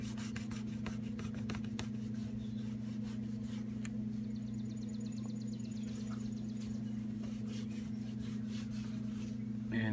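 A cloth rubs bug and tar remover into a car's paint, giving a continuous fast scrubbing and wiping under a steady low hum from nearby equipment, with no talking.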